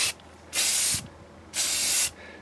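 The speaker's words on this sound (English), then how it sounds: "And you want to paint in just short strokes. Spray paint." Spray paint hissing from an aerosol can in two short, steady bursts of about half a second each, close and loud, with a quiet gap between them, applied outdoors in a light breeze while restoring an Atari Pole Position arcade cabinet.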